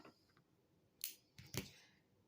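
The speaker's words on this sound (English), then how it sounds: "so we're going to snip our string" A few quick, crisp scissor snips cut through string on a hat keychain craft, close and fairly faint in a quiet room.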